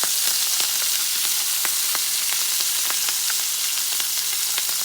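Yak tenderloin sizzles in a cast iron pan with butter and thyme, a loud, steady frying hiss with scattered small pops throughout and no voices.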